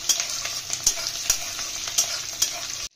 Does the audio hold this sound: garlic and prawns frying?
yes